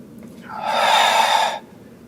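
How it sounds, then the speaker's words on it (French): One long, audible breath during a yoga exercise, a close airy exhale that swells for about a second and then stops abruptly, with nothing else around it. "On inspire en bas et on expire sur l'effort à la montée."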